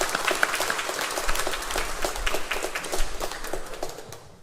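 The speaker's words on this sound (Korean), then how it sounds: "다시 한번 영광의 박수 올려드리겠습니다" A Korean church congregation claps during a Sunday service, with many hands striking in fairly rhythmic bursts that stay moderately loud throughout and fade at the very end.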